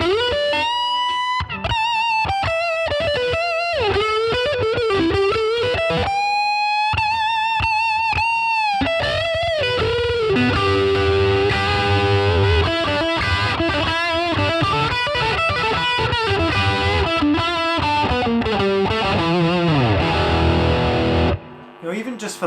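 Electric guitar played through a Marshall DSL1CR 1-watt amp, with ringing lead lines and sustained notes giving way to busier strummed rhythm, a roomy reverb tail around it.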